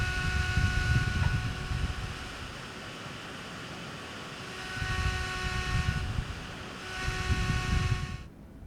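A PC case's bottom fan, pressed right against the mesh and dust filter of a micro-ATX case, roars with a loud steady whoosh and faint tonal whine, surging louder in a few swells before cutting off at the end.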